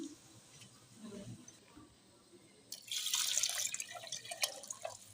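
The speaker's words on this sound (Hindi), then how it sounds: "अब इसमें मैं पानी ऐड करूँगी" Water is poured from a bowl into rice in a pressure cooker for cooking: quiet drips and small clinks at first, then a louder splashing pour that sloshes for about two seconds before tapering off.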